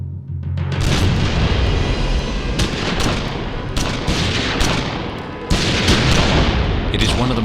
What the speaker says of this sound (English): Suddenly, the stillness is shattered by the blast of gunfire.